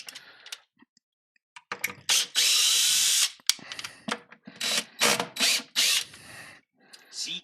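A power tool whirs in bursts during a workshop rebuild project, with one long run and several short loud bursts separated by pauses and brief clicks.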